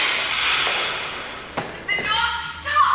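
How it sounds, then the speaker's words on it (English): A few dull thumps and knocks sound from behind a stuck door, irregular and fairly close, mixed with people calling out and talking. "Bang twice if you can hear me!"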